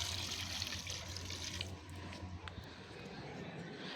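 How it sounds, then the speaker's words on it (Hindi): Water poured a little at a time onto potted plants, a bright splashing rush for the first second and a half, then fading to a softer trickle and drip. "तो चलो पानी डाल देते हैं इसमें थोड़ा थोड़ा"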